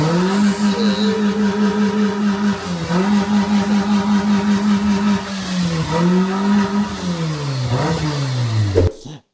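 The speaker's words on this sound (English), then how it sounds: "revving the engine too high or just needlessly over revving is no good for the longevity of your engine" A car engine revs up and down repeatedly, loud and close, its pitch climbing and falling in several strong swells before cutting off abruptly at the end.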